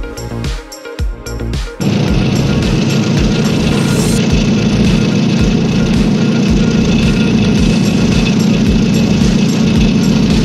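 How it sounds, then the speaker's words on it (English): A bulldozer's engine runs with a loud, steady, low rumble that starts after a brief burst of clatter and keeps going unbroken to the end. "bulldozer."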